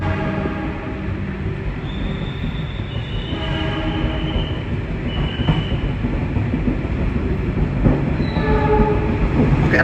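Commuter train pulling out of Surabaya Gubeng station, a steady rumble of wheels and cars with high squealing tones from the rails rising and falling, building slightly louder over the clip with no talk.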